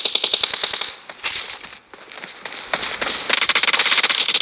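Gunfire in a PUBG match sounds as rapid bursts of sharp shots. They come in clusters, with a short lull in the middle and a dense volley at the end, fairly loud and close.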